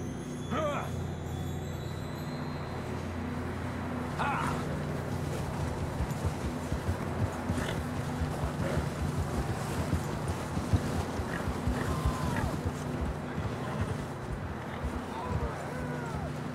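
Steady muffled horse hoofbeats plod along in Red Dead Redemption 2 under a constant rumble of wind and ambient noise, with faint distant calls now and then.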